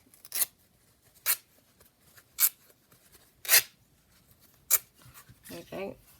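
Fabric torn slightly by hand in a series of short sharp ripping bursts, five or six quick tears spaced about a second apart, close and clear against a quiet background.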